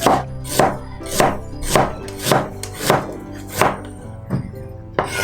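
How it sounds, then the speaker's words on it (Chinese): A kitchen knife slicing ginger on a cutting board, about ten steady, evenly spaced thunking chops that gradually soften toward the end, close and clear with no talking. "接下来我们的话把姜切片。"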